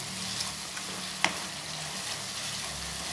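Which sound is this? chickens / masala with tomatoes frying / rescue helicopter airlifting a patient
masala with tomatoes frying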